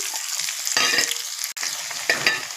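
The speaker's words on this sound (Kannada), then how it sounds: "ಎಲ್ಲ ನೀಟಾಗಿ ಫ್ರೈ ಆಗ್ತಾ ಇದೆ" Garlic, five or six dried chillies and a medium onion sizzle loudly in hot oil for a coconut tomato chutney, with a steady crackling fry and spoon stirring scrapes close by, no talk.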